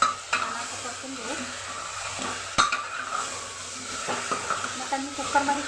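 Mutton sizzles gently in a pan while a spoon stirs and knocks against the metal in irregular scraping strokes, with a voice speaking over it at times.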